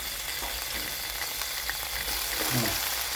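Steady oil sizzling and crackling from a hot pan as water spinach is stir-fried, with a brief stirring clatter near the end.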